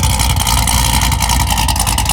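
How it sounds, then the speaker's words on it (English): A Corvette C7 Z06 fitted with Texas Speed headers idles loud and close after a cold start, a dense, throbbing exhaust rumble with a rapid steady pulse and no voices. "we can't do this video without a cold start"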